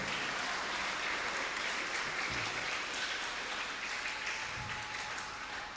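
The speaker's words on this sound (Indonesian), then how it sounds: "Tepuk tangan buat Tuhan Yesus dulu." A congregation at a children's and youth Christmas church service in Jayapura applauds, a dense, sustained wash of clapping that fades slightly toward the end, with no talking.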